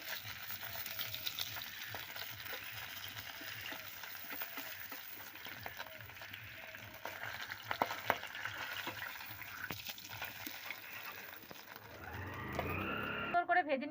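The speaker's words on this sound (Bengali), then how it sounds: "যে মাছগুলো ছিল বাকি সেই মাছগুলো এই যে ভেজে নিচ্ছি" Rita fish frying in oil in a kadai, a steady close sizzle running throughout with occasional stirring clicks, a brief louder burst near the end.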